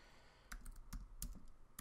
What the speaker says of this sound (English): Just typing in the hashtag.